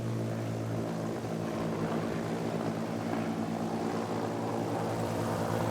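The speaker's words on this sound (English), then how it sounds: "Beautiful top side pass there again, showing the beautiful wing design of the Spitfire." A Spitfire fighter aircraft passes over the airfield at an airshow, its propeller engine droning steadily and loudly throughout with a thick, even harmonic hum and no voices.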